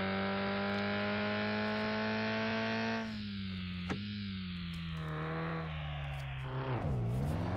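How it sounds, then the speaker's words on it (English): A rally car's stock engine in the gRally sim drones with a steady, buzzy tone that holds high, then drops and rises as it shifts and revs through corners, with a brief sharp click partway through. "the stock engine sound is poor."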